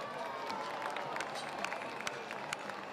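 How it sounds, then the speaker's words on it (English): A crowd at a rodeo in Sydney applauds a New South Wales cowboy, a dense, steady patter of clapping with scattered sharper claps throughout, fairly close and continuous for the whole stretch. "Well, thank you very much, Sydney, for that great round of applause for that cowboy."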